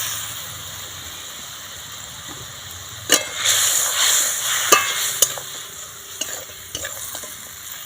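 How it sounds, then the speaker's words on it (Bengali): Pieces of fried lata fish drop into boiling gravy for a Bengali oil-and-chilli fish curry, with a steady bubbling simmer broken after a few seconds by louder sizzling bursts and spoon-stirring clinks. "গ্রেভিটা ফুটে গেছে এখন দিয়ে দেবো ভেজে রাখা মাছগুলো"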